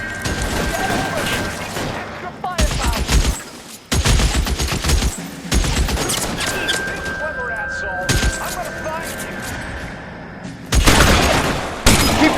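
Bursts of rapid gunfire and heavy shots crackle through a shootout in LA Noire, loud and close, broken up by short gaps, while voices shout over the action.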